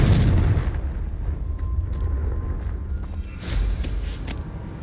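A Confringo explosion spell fired in Hogwarts Legacy gameplay on Xbox Series X gives a loud, dense booming blast that rolls on throughout, with a second burst swelling near the end.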